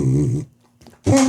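A pet dog makes low, growly vocalizations indoors, two short close bursts separated by a near-silent pause.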